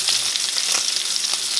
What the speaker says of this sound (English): we are cooking a nice juicy steak, and we're shooting for medium